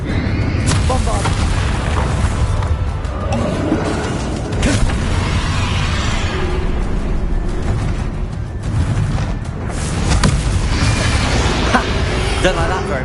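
Bombarda explosion spells in the Hogwarts Legacy video game, dense booming blasts and bursts layered over a continuous loud mix of combat effects and music throughout.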